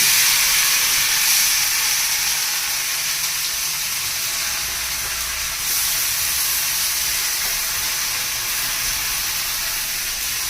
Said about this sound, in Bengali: চাল আর ডাল যেটা মশলা দিয়ে মেখে রেখেছিলাম সেটা এই তেলের মধ্যে দিয়ে দিচ্ছি